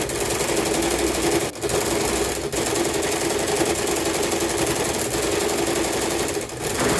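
A sewing machine stitches bias binding onto the side of a fabric drawer organizer, running in a steady, fast mechanical chatter that pauses briefly twice and continues close by with no talking.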